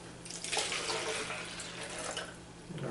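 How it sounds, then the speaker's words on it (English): A water and brown sugar mixture pours into the bottom half of a bottle for a homemade mosquito trap: a quiet, continuous splashing trickle lasting a few seconds. "So I'm going to pour this in the bottom half of the bottle."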